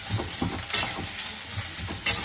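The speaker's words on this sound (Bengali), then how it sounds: "পেঁয়াজগুলো একটু নাড়াচাড়া করে নেব।" Onions frying in a pan while being stirred, with a steady sizzle broken by repeated scraping strokes of a spatula and two sharper bursts of hissing, close and alone with no talking.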